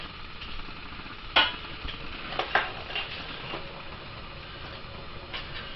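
Hobo stew heating in a pot on a stove with the burner on, a soft steady simmer and hiss with a few sharp clinks of a utensil or lid near the start, close and without speech.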